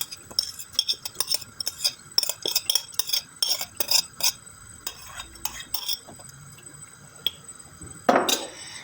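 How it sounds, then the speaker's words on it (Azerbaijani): Rice being stirred into heated milk with a wooden spoon in a pot: quick, close scraping and clinking strokes in a busy rhythm for several seconds, then a brief sharper knock, with no talking. "Və taxta qaşıqla qarışdırırıq."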